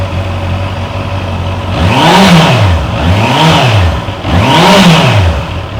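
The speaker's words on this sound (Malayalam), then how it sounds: "നല്ല ഒരു തകർപ്പൻ ഫീലുള്ള ഒരു സൗണ്ടാണ് ഇൻലൈൻ 4ൻ്റെ ഈ ബൈക്കിന് നൽകുന്നത്." A 2025 Honda CB650R's inline-four engine idles, then revs hard three times in quick succession. Each rise and fall of the rev is loud and close, and there is no talking.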